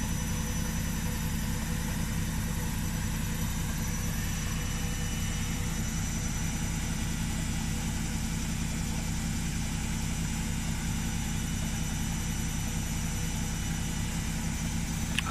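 An Electrolux or Arctic washing machine on a quick program spins up with a steady, loud mechanical drone and motor hum, unbroken and without talk throughout.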